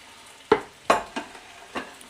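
Bacon and black pudding in a frying pan give a few distinct sharp sizzling bursts with quieter crackle between them, close and clear, no voices.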